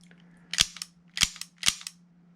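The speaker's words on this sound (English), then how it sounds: "that's kind of the feeling that you get when you're shooting the gun. It just snaps." An Elite Force M9 airsoft pistol fires three sharp, snappy cracks in quick succession, each followed by a brief clatter, heard close against a low steady hum.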